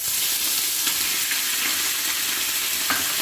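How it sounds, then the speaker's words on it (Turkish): Meat searing in a hot pan for a Turkish Emirdağ Afyon güveç, a loud, steady sizzle and frying hiss running throughout with faint stirring clicks and no talk. "Etlerimizi mühürleyeceğiz."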